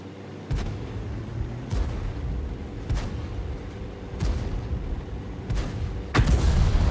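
Artillery fire in the tank game World of Tanks: repeated heavy booms, about five cannon shots spaced a second or so apart, over a constant loud rumbling battle backdrop, with no voice.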